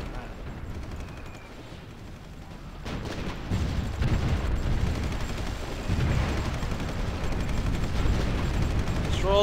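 Artillery fire in the strategy game Supreme Ruler Ultimate, a dense rumbling barrage of distant booms that swells louder after a few seconds and keeps rolling without pause.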